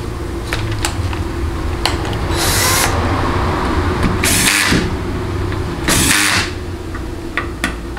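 Power tool driving six bolts into the cover plate of a Jeep A904 transmission valve body on a bench, heard as three separate loud, broadband bursts of whirring over steady background noise.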